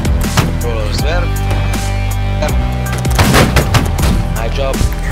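Musket volley fire in the Holdfast line-battle video game, with repeated loud overlapping shots and crackling bursts across the whole stretch, mixed with in-game noise and faint voices.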